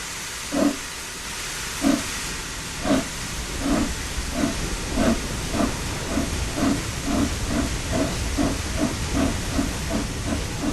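Flying Scotsman steam locomotive in Train Sim World 4 gives off rhythmic steam chuffs over a constant hiss, the beats starting slow and spaced and quickening into a steady pulse as it gathers speed.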